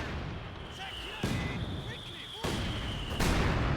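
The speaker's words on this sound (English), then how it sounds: "Now I'm mortaring him back." Mortar fire in the video game Company of Heroes 2, three heavy booming impacts spaced about a second apart over a battlefield bed with a sustained high tone, alongside gameplay voice sounds.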